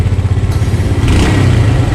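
Yamaha Jupiter Z motorcycle engine with a sputtering, underpowered fault, revved close by in a workshop, loud, rough and uneven with a brief rise in pitch midway.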